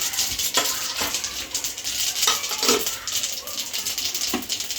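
Mustard seeds and urad dal fry in hot oil in a pan: a steady bright sizzle with scattered sharp popping crackles and a few clinks of the pan, close and fairly loud.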